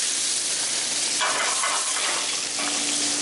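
Sherry hitting a hot pan to deglaze it, a loud, dense hiss that swells in bursts and holds close and strong throughout.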